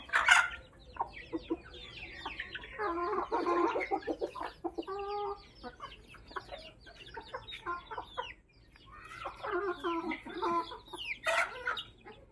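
Hens cluck repeatedly at close range, a busy overlapping flock calling in bursts with brief lulls, as they gather for feed at a home yard.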